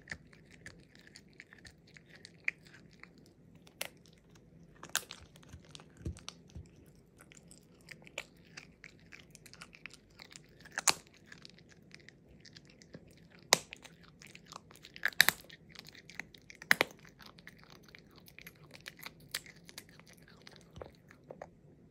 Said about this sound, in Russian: Как ты хорошо костями хрустишь.